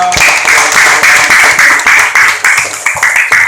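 Elementary school classmates clap for a quiz team, a loud close burst of children's hands with uneven rhythmic pulses, continuous for a few seconds.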